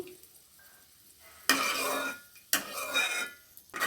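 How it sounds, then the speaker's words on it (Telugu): A spoon scrapes and stirs through cashews and raisins frying in a pan, with two loud bursts of sizzling and clatter after a quiet start and metal knocks between them. "వేయించుకుంటున్నాను కిస్మిస్ కూడా వేయిపోయి తీసుకుంటున్నాను బౌల్లోకి"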